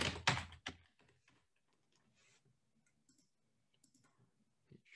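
Quick computer keyboard typing, a short burst of close, crisp key clicks at the start, then sparse faint taps.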